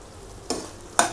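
Orange peel being stirred into orange chicken in a pan: a low sizzle with two short, sharp scraping stirs, close and brief.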